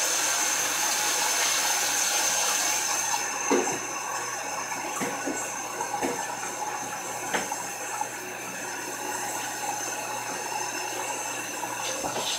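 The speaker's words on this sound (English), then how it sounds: "when cooking noodles, once they're done, you're supposed to rinse them off with, like, cool water" Cooked rice noodles are rinsed under cool running water, a steady rushing stream that softens after a few seconds, with occasional light knocks and clatter close by.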